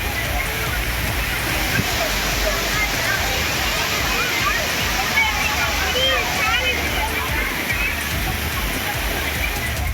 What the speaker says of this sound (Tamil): திற்பரப்பு அருவியில் உற்சாக குளியல் போட்டும் மகிழ்ந்தனர்